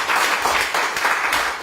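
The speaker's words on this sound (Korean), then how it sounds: "맞다면 박수가 나올 텐데요" A lecture audience claps in a short burst of brisk, fairly loud applause that carries evenly through under two seconds.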